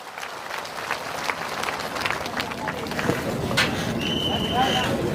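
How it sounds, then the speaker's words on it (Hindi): A crowd at a large tribal rally in India bursts into dense, sustained clapping welcoming a speaker, building and continuing steadily, with a few whistles and shouts mixed in. "आप जोरदार तालियों के साथ में आप इनका स्वागत है वो करें"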